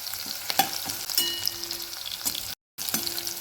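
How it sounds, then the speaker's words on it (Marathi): Garlic and green chili sizzle in a hot pan, a steady close frying crackle with occasional stirring clatter and a brief dropout near the end. "लसूण आणि मिरची एक अर्धा मिनिट परतून घ्यायचे."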